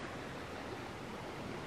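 Small stream flowing in a conservation area, a soft, steady broadband wash of running water, faint and even across the short moment with no voices.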